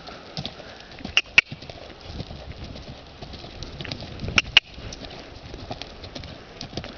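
A horse cantering on a lunge line gives a steady, rhythmic clip-clop of hooves, close and fairly loud, with a few sharper hoof strikes standing out above the low background.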